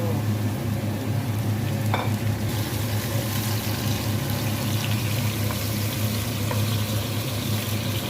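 Food sautés and is stirred in a pan while browning before tomato goes in, a steady, close sizzle with faint scraping, all under a constant low-pitched hum.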